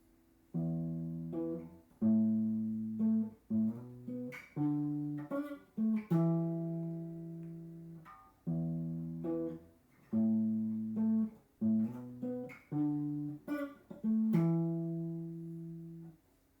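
A guitar riff: clean, sustained plucked notes in short repeating phrases with brief pauses, played alone and moderately quiet.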